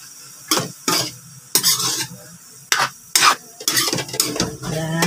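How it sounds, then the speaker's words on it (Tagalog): Bean sprout filling for lumpia stirred in a hot pan, a spoon or spatula scraping in repeated bursts over a steady sizzle, close and fairly loud with no talking. "haluin na natin"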